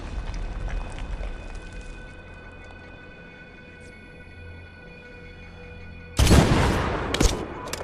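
Gunfire bursts out in the video game Medal of Honor, a sudden loud volley of shots crashing in after a stretch of low droning battle ambience.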